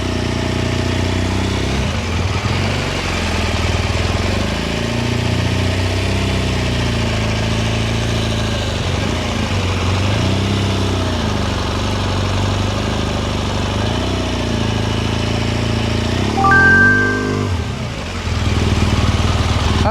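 Motorcycle engine idling with a steady mid-pitched rumble while the rider slips the clutch at its gripping point, and the revs rise and dip in gentle waves, with a brief sharper surge near the end.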